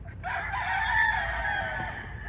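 A straight-combed sweater gamefowl rooster gives one loud, sustained crow from close range, lasting about two seconds.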